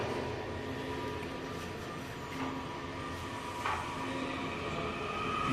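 A Washington Metro 7000 series subway train rumbles past the platform at Union Station, a steady low roar with faint squeals and clanks, heard from moderately far.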